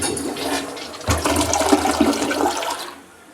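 An American Standard toilet in a hotel bathroom at Marriott's Gaylord National Harbor Resort flushes close by with a sudden loud whoosh of rushing water that fades after about two seconds, with no talk.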